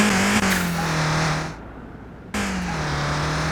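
Nissan Silvia engine in Car Mechanic Simulator 21, fitted with racing slicks; a loud, close, sustained engine roar with a falling pitch, cutting out briefly before resuming at full volume.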